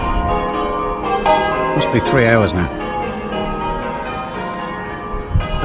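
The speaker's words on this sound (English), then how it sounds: "The bells are still going." English church bells ring across Loch Ettive while someone kayaks; someone speaks in the foreground and the bell tones sound distant beneath his voice.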